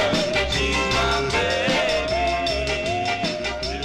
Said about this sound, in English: That is the sound of the Five Playboys.